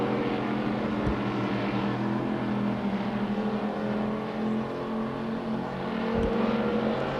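Stock cars lapping the track at Billings Motorsports Park, among them a big station wagon sliding sideways through turns three and four, loud sustained engine drone with wavering pitch and a couple of low thumps.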